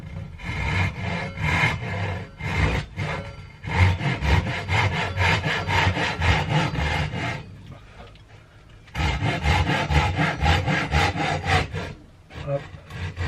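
Hand saw cutting through the wooden block of a guitar neck, a steady back-and-forth rasp of strokes that pauses briefly near the middle, then resumes with the same close, rhythmic sawing.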